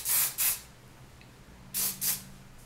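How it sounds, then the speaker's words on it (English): Hairspray is sprayed onto long, thick hair being curled, in two pairs of short hissing bursts close to the microphone, with quiet gaps between them. "Go ahead and put some hairspray again."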